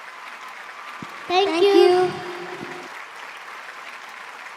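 Audience at a live concert bursting into a short round of clapping that swells for about a second and fades, with a person speaking briefly over it and quiet room noise around.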